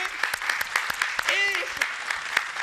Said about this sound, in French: J'aimerais qu'on applaudisse pour Noëlla